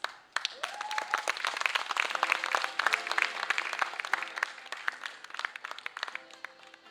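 An audience claps warmly and steadily as finalists of an English poetry writing and recital contest walk on stage, with a brief whistle early on and crisp, close claps throughout.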